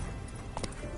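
Roach, a horse in The Witcher 3 game, runs briefly; a quick patter of hoofbeats sits low under steady game ambience, close and moderately loud.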